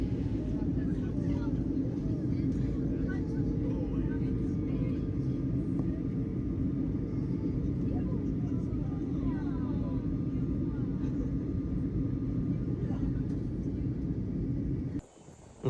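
Airplane cabin noise during a flight through clouds: a steady, loud low-frequency roar and rumble that holds without a break, then cuts off abruptly at the end.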